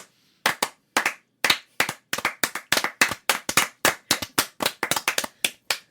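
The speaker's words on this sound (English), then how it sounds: "Slow clap." One person claps alone, a string of about twenty sharp, close hand claps that starts slow and speeds up into an uneven rhythm.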